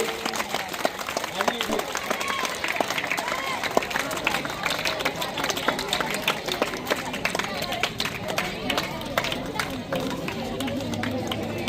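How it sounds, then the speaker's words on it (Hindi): Lively audience clapping at a school prize-distribution ceremony in a hall, a dense patter of many hands with crowd chatter and a voice talking over it throughout. "जोरदार तालियों से उनको जोश बढ़ाइए।"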